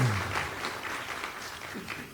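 An audience at a county and municipal update meeting claps briefly, a soft, evenly spread patter of hands lasting about two seconds in a room.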